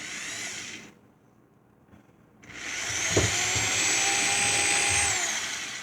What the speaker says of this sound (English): So we'll drill through.